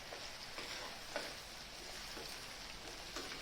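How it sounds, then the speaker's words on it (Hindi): Onions fry in mustard oil in a pan for a brinjal bharta with a faint, continuous crackling sizzle and a few soft stirring taps, no voices. "और अब हम प्याज को अच्छे से भून लेंगे।"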